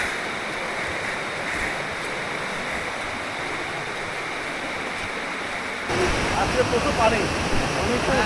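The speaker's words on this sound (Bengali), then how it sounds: "এত কষ্টের পর ঝর্ণা শব্দ শুনে ভালো লাগতেছে" A rain-swollen waterfall in the hill forest of Kaptai, Rangamati rushes as a steady broadband roar, louder and closer in the final seconds, with no clear speech.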